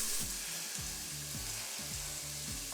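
Garlic cooks in a soup pot for chicken noodle soup. A faint, soft sizzling hiss runs steadily over low background hum, quiet and unbroken, with no voices.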